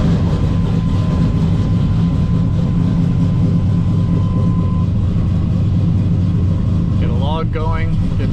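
An LS-swapped car engine runs at a steady loud idle close by, a continuous low rumble with a faint whine, and a voice talks briefly near the end.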